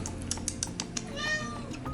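A house cat meows once, a drawn-out tonal call in a kitchen, over a background of keyboard-like tapping and faint clicks.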